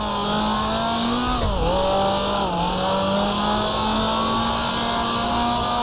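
Formula 2 race car engine from the Grand Prix Legends game, 1966 Goodwood event, droning steadily at high revs with a brief dip and pitch drop as it shifts, then climbing again, loud and continuous with no talk.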